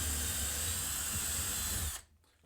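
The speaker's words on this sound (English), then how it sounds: "And now we can go ahead and drill out your" A power drill bores a pin-hinge hole through an RC aircraft control surface held in a drill jig, whining steadily and loudly up close for about two seconds before it stops abruptly.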